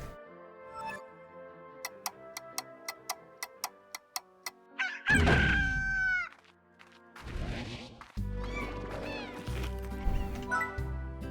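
Chickens in the video game Slime Rancher, with a row of regular ticking clicks followed by louder bursts of clucking and squawking calls, fairly close and separated by brief pauses, with no talking.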